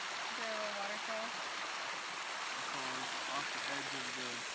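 A beautiful river flows just below a hot spring pool, giving a steady, broad rush of water with a small waterfall nearby. Voices talk over the continuous flow.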